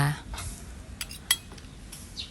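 Laab ingredients, seasoned with fish sauce, chili powder and toasted rice powder, mixed with a metal utensil in a dish: close scraping and a few clinks, fairly loud, with a brief voice present.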